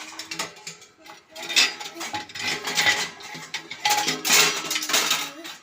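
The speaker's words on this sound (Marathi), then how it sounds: "भांडे घेते त्यामुळे भांडे वाजले बरं का" Metal pots and pans clang and clatter repeatedly in irregular bursts, close and fairly loud, with no talking.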